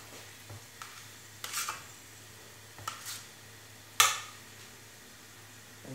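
Aloo paratha frying in a pan, with a quiet steady sizzle broken by several soft scraping and stirring clicks and one sharper clatter, close by with no talking.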